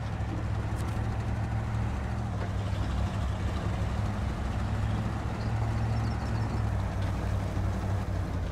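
A 6.6 litre truck engine in the video game Snowrunner drones with a deep, steady roar that stays even in level throughout, a continuous low rumble with no voices over it.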